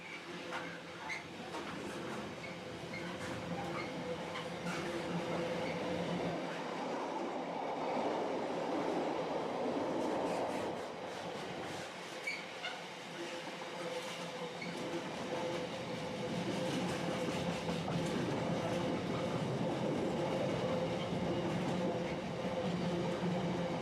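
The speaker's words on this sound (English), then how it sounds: "This train avoids Coventry, travelling instead via Warwick and Solihull, then through Walsall to Stafford and Crewe." A container freight train on a British main line rolls steadily past for the whole stretch, a continuous loud rumble with rhythmic clickety-clack of wagon wheels over rail joints and no voices.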